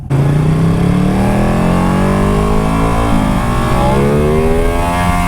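A loud Ducati motorcycle accelerating hard on a highway, its engine note climbing steadily in pitch with a brief dip as it shifts gear, close and continuous throughout.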